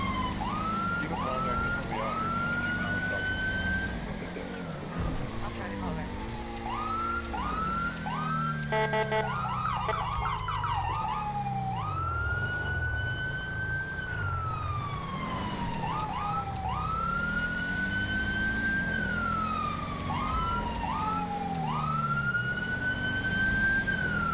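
An ambulance siren wails continuously in GTA 5 with the LSPDFR police mod during a night patrol, cycling through rising and falling sweeps and rapid yelp passages over a loud vehicle engine rumble, with no pauses.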